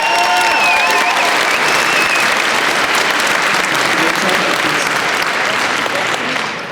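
An audience at a live question-and-answer event claps for the volunteers, a dense burst of applause that holds steady and then fades slightly toward the end.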